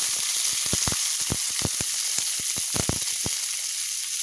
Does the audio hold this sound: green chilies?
yes